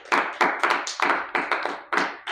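Congregation in church clapping together in a steady, rhythmic beat, about eight sharp claps in quick succession, close and fairly loud with no talk over it.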